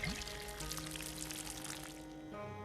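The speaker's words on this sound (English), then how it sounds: "I need to pour out this rotten stuff before I forget that it's rotten" Rotten liquid poured out onto the ground in the video game Project Zomboid, a faint steady splashing pour lasting a couple of seconds over a quiet background hum.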